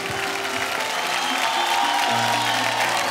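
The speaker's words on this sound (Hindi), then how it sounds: "तालियां प्लीज" Studio audience applause on a Hindi television game show, a steady dense wash of clapping filling the whole stretch at moderate loudness, with faint voices mixed underneath.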